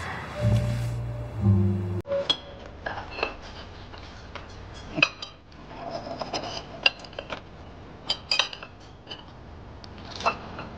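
Metal knife and fork clink and scrape against plates at a Western-style dinner table, producing scattered light taps and clatters of varying loudness; a low rumble and a brief background sound open the scene.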